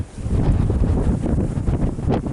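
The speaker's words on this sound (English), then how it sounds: "The wind's blowing like 50 miles an hour over here." Strong wind gusts at about 50 miles per hour on open Kansas hunting ground near cattle and a hill, roaring steadily and loudly into the microphone in a dense, buffeting rush that does not let up.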